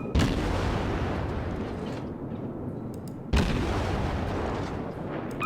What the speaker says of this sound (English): let's get that other gun ready. We need to fire fast.